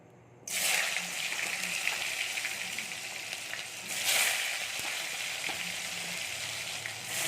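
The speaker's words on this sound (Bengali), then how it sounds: "এবার আমরা এঁচোড় আর আলুগুলো ভেজে নেব।" Jackfruit and potato pieces fry in hot oil, a loud, close, continuous sizzle that swells briefly partway through, with no voices.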